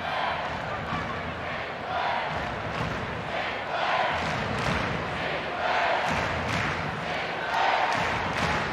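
A large stadium crowd sings and chants steadily throughout a women's football match between Thorns FC and Orlando Pride in a historic stadium, a dense roar with commentators talking over it.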